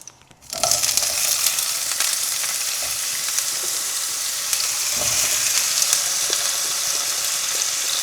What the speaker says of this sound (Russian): Картошку хорошо обсушили. И отправляем на сковородку.